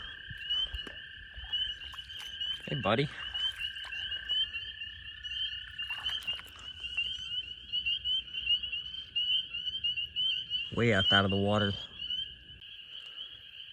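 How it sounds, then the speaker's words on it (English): A toad calling at a pond in early spring, long steady high trills running across the scene with a couple of louder close bursts, while someone speaks quietly over them. "this guy over here is definitely putting in the effort to be the king toad."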